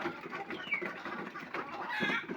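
A group of hens clucking and chattering together, a continuous busy murmur of bird calls with a few louder squawks, fairly close.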